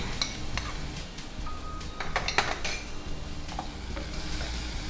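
Fenugreek leaves frying in a pan with a low, steady sizzle, broken by several sharp metallic clinks and scrapes of a spoon against the pan.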